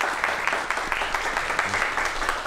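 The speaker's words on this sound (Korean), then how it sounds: "두 분을 박수로 모시겠습니다." An audience applauds steadily to welcome two guests onto a talk show stage, a dense, even wash of many hands clapping, fairly loud and sustained throughout with no other sounds standing out.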